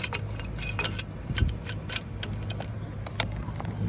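Old brake pad clinking and tapping against the front brake caliper of a Chevy Avalanche, several light metallic knocks and jangles spread across a few seconds, close and fairly quiet over low background hum.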